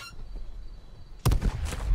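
A sudden loud blast of a grenade in the video game H1Z1: Just Survive erupts after a quiet stretch, followed by a second of rumbling, crackling debris.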